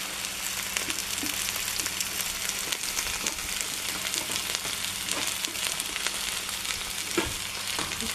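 Chicken fries in a pan with a constant close sizzle and scattered pops and crackles, steady and moderately loud, with no talking.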